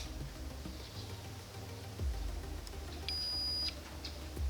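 A homemade metal detector, with a search coil and an electronics box on a wooden handle, is switched on and gives one steady high beep lasting about half a second, over low handling clunks and background hum.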